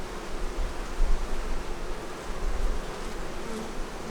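Agitated honey bees at an open hive hum in a dense, continuous buzz, close and loud, swelling slightly in waves with no talking.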